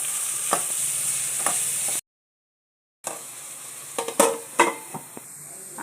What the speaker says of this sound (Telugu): క్యారెట్ కొద్దిగా ఉప్పు వేసి బాగా మగ్గనియాలి.